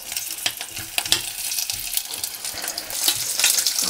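Fat melts and fries in a hot pan with a busy, crackling sizzle, close up, with steady spitting pops that build slightly louder toward the end.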